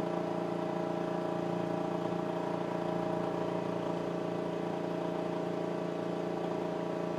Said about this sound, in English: another pump called a turbo pump will start. And it sounds kind of like a little jet engine taking off.